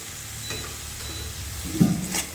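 Tomato added to ginger and spices frying in a pan gives a quiet, steady sizzle with a brief clatter near the end, close-up and without any talk.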